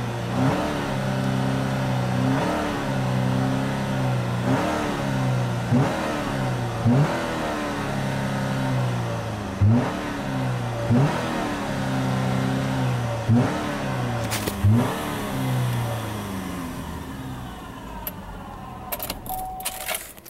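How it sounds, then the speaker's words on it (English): A 2014 Buick Verano's idling engine runs steadily, with repeated rhythmic revs rising and falling every couple of seconds, followed by a few faint clicks near the end. "Car starts right up."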